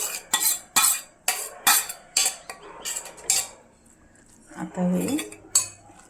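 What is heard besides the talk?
mixing ground dal and raw mango with a spoon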